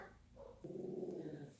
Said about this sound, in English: I apologize if you hear my dog barking